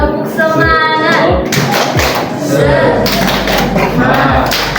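Children clap along in a rhythmic 'tepuk semangat' pattern during a classroom activity, with sharp thuds and claps mixed into loud group chanting and speech.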